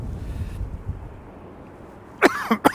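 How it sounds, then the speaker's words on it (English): Two or three sharp, close coughs from a man with a chesty cold, fishing at Blyth Harbour in Northumberland, burst out near the end after a stretch of quiet wind and water noise. "Excuse me for coughing in the mic."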